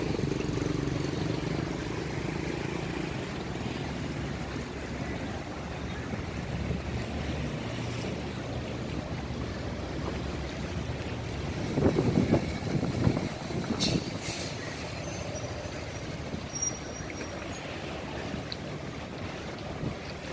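Strong sea wind sweeps across a ferry harbour at Merak, a steady broadband rush with buffeting against the microphone, waves and boat noise underneath, and a louder gust surging briefly about midway.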